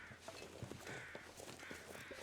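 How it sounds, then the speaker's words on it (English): Crows cawing in a wild outdoor setting, several faint, distant caws repeating irregularly over a quiet background of wind. "I hear crows, but where?"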